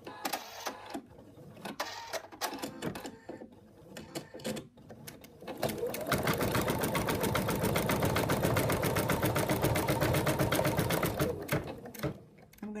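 A sewing machine stitches down the arm of a stuffed toy monkey, starting after some handling noise and running in a fast, steady mechanical rattle for about six seconds before stopping.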